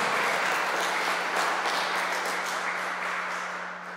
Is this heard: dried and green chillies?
no